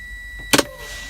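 Two sharp pneumatic pops close together as truck air brake valves pop out during an air brake test, a loud brief double burst over a quiet idle background.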